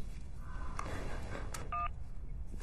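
Telephone keypad DTMF tones from a bank's automated phone menu: a single short keypress beep rings out clearly over low line hiss, with faint background noise around it.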